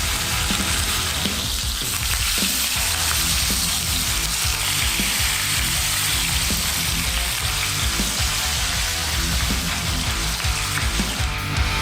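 A ramen roll fries in an oil-filled pan, giving a continuous loud sizzle and crackle with occasional light scraping, and no voices.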